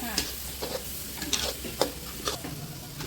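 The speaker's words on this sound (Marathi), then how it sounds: "मसाल्यामध्ये बटाटा मिक्स करून घेते।" Potato being stirred into a spice masala with turmeric in a pan while making vada pav, with a spoon scraping and clattering in soft repeated strokes over a faint, steady sizzle.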